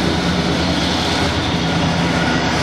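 A 1971 Oldsmobile Cutlass engine idling after its first start, a loud, steady low rumble that holds evenly throughout with no voices over it.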